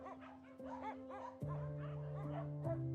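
Rescued dogs at a shelter yip and bark in a rapid, overlapping cluster, with whimpers mixed in, loud and close over a steady hum.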